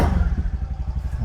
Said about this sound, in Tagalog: Makikita na natin na galit yung makina pero wala siyang andar.